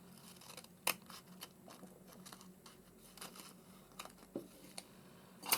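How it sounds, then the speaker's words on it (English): Paper butterfly labels with silver accents being cut with scissors, giving a few quiet, brief snips and soft crinkles against a faint background. "So I'm going to cut that about there."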